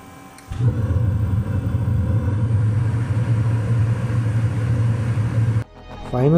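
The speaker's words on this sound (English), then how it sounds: "Finally, the heater started and was working fine." An Eberspacher Espar Hydronic 30 kW diesel bus heater starts up and runs with a loud, steady low rumble and hum, then cuts off abruptly near the end.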